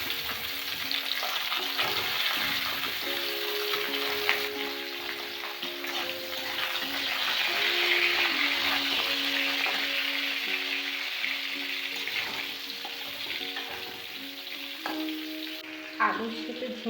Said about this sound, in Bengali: ঝিঙেটা দিয়ে আমি কিছুক্ষণ ভেজে নেব আলুর সাথে ঝিঙেটা